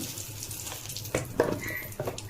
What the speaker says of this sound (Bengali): এবারে একটা এলাচ ফোড়ন দিলাম, দুটো তেজপাতা ফোড়ন দিলাম।